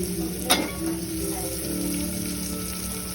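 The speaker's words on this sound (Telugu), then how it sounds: "వేసుకుని బాగా అటు ఇటు కలుపుకుంటూ వాటిని బాగా వేయించుకోవాలి." Chopped onions with chili and turmeric fry in hot oil as they are stirred, a steady close sizzle with a brief scrape of the spoon near the start.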